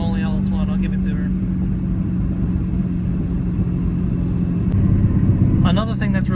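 A cam-only LS1 V8 swapped into a BMW car pulls hard in third gear, a steady loud engine drone rising slightly toward the end, with someone talking over it in bursts.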